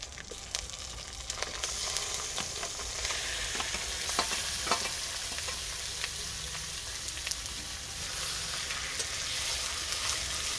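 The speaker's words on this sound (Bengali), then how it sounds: "ম্যারিনেট করে রাখা মাংসটা আমি এবারে দিয়ে দিচ্ছি" Marinated chicken pieces fry in a pan at home, a continuous close sizzle with scattered spatters and scraping stirs running throughout, with no voices.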